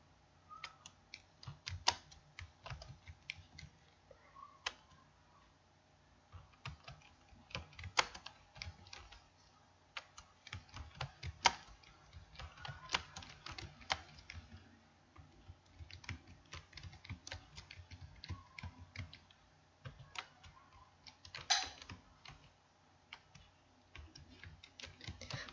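Rapid, uneven keystrokes on a computer keyboard as text is entered into a PowerPoint slide. The clatter is close and continuous, with brief pauses, and no voices.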